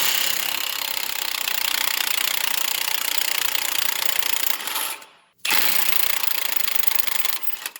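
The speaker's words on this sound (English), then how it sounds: "I think the Milwaukee will be able to shear that cotter pin right off" A Milwaukee power tool grinds hard and steadily as it shears a cotter pin off a Dana 60 front end. There is one brief pause near the end before the loud mechanical noise resumes, with no talk over it.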